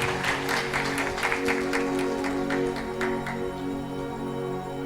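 A church congregation at a sermon claps loudly together, a dense rhythmic patter of hands that fades out after a few seconds over a steady background hum.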